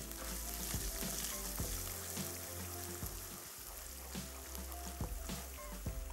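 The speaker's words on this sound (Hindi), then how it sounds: "शहद को सिर्फ यहाँ तक पकाना है कि इसमें बबल्स आ जाएं" Honey cooks in a pan until it foams and bubbles, making a continuous close sizzle with occasional stirring clicks and soft bubbling pops, no speech.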